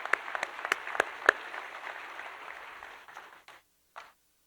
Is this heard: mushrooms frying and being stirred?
no